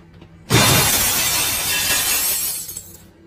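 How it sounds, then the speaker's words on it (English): A drinking glass is thrown and smashes, a sudden loud shatter with bright tinkling shards that spill out for a couple of seconds before fading. "Did you just chuck the glass?"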